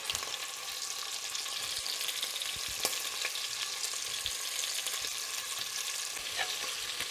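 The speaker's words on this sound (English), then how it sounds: "Now we can go in with the other half. And it's just the same process. We're going to sear it for about 3 minutes per side" Beef chunks searing in a hot pan for beef bourguignon, a continuous bright sizzle and crackle held at an even level with a few small pops, no voices.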